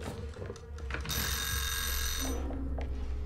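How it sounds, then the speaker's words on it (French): A loud, steady electronic alarm rings continuously for more than a second inside Hello Neighbor 2, a sustained high-pitched tone over game background noise, with no talking. "J'ai mis une alarme."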